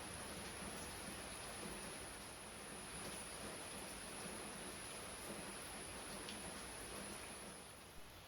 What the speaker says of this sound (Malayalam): നല്ല മഴ അല്ലേ എല്ലാ ദിവസവും മഴ